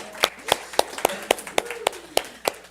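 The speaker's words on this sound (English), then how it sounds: "Give yourselves a round of applause." About ten sharp, evenly spaced claps ring out at a steady beat, close and distinct, with faint background tones between them, in a congregation gathering.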